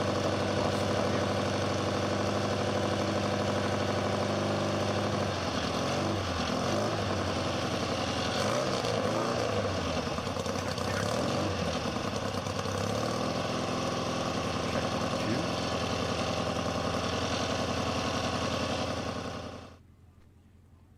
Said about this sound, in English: I guess we got an engine running.